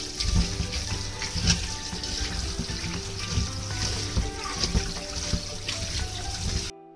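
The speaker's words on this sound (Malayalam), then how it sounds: "അപ്പോൾ നമ്മൾ ചിക്കൻ കഴുകാൻ വെച്ചിട്ടുണ്ട്" Raw chicken is washed under a running kitchen tap, the water pouring and splashing steadily for several seconds before shutting off abruptly.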